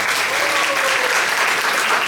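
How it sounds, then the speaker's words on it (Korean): A church congregation claps in congratulation for a newborn baby girl, giving a dense, even burst of applause that holds steady across the short stretch with no talk over it. "우리 박수로 축하하겠습니다."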